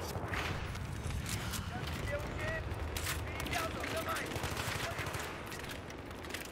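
Rapid automatic gunfire in the Battlefield 3 game on the Metro map, dense bursts rattling steadily under excited player voices.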